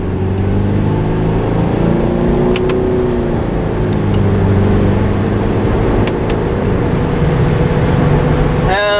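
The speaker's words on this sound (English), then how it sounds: "Gonna flop it over into manual and see how these paddle shifters work." A Subaru car driving with its automatic gearbox in manual mode, paddle shifters in use: a loud, continuous engine drone from inside the cabin with rising and falling pitch as gears change, plus a few faint clicks.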